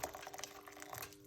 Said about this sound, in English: So let's put some hot water into the pot.